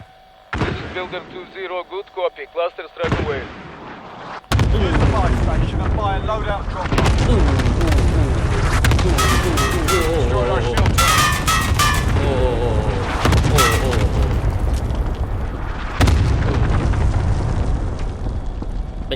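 Call of Duty Warzone gameplay with heavy, loud booming explosions and slams after a quieter opening, dense blasts and crackling debris continuing over several seconds, with someone talking throughout.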